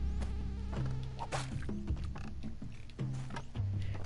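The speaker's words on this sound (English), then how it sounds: "At least with the mosquitoes, they are quite loud." Mosquitoes in the Spelunky 2 video game, loud whining buzzes that repeatedly swoop up and down in pitch, mixed with short game sound effects and clicks, with no talking.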